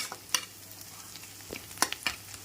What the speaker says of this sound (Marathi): मी आत्ताच याच्या तेलामध्ये मिरचीत बटाटा घातला आहे छान परतवून घेऊया